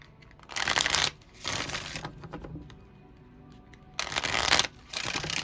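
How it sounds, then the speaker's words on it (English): Brisk papery riffles of tarot cards being shuffled, coming in several bursts of about half a second to a second, with short quiet gaps between them. "Hold on, I need to shuffle."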